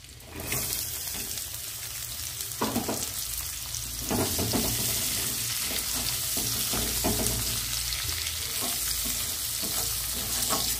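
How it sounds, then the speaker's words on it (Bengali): Chopped onion and green chilli frying with garlic in a pan for a prawn and taro greens dish, a loud continuous sizzle broken by several scraping stirs of a spatula. "ভালোভাবে ভেজে নেব।"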